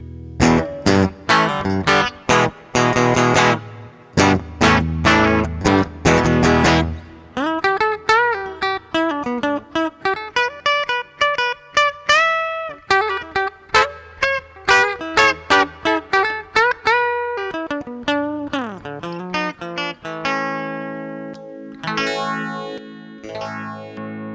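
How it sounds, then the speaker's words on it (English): A 1977 Electra MPC X330 electric guitar runs through its plug-in power overdrive module, playing loud, sustained, gritty notes and bending phrases with choppy pauses between runs, and no voices. "The second module that we have for this one is the power overdrive."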